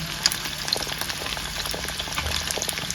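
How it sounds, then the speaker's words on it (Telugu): Garlic butter chicken frying in a pan over a medium flame, a steady close crackling sizzle with scattered pops and spits, no voices, faint rain-like patter blending in. "మన garlic butter chicken two sides నిదానంగా మీడియం ఫ్లేమ్లో పెట్టుకొని అదే మీడియం ఫ్లేమ్లో పెట్టుకొని వేయించుకున్నాము"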